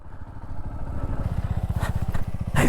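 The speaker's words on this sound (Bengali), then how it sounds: "ফার্স্ট টাইম সমুদ্রে আর সমুদ্রের এত পারে বলে আমরা বাইক চালাচ্ছি" A motorcycle rides along a sea beach, its engine close with a rapid, even thumping that grows steadier and louder, and a burst of wind or spray at the end.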